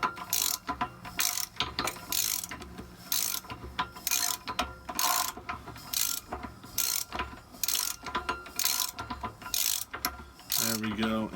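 A ratchet wrench repeatedly clicks in bursts while a Cummins engine is turned over by hand, with the engine's compression heard as it cycles; the rhythmic ratcheting is close and fairly loud, with no speech.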